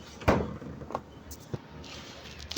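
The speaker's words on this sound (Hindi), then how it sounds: "फ्रिज को बंद कर देते हैं" A single soft thud of a refrigerator door shutting, followed by a couple of faint knocks and light rattles in a quiet room.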